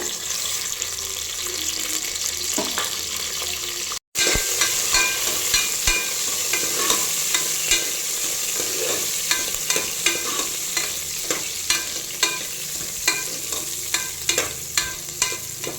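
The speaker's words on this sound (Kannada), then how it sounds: "ಈಗ ಕಟ್ ಮಾಡ್ಕೊಂಡಿರುವಂಥ ಈರುಳ್ಳಿ ಬೆಳ್ಳುಳ್ಳಿ ಮೆಣಸಿನ್ಕಾಯಿ ಕರ್ಬೇವಿನ ಸೊಪ್ಪನ್ನ ಹಾಕೋತಿದ್ದೀನಿ ಒಗ್ಗರಣೆಗೆ" Chopped onion, garlic, green chilli and curry leaves fry in hot oil with mustard seeds for a village-style tempering: a loud, continuous sizzle with regular clinks and scrapes from a stirring spoon.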